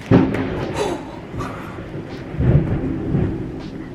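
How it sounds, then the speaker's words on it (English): Deep rumbling thunder rolls over a dense wash of heavy rain, loud and close, with low booms swelling and fading. "It is literally a torrential downpour right now."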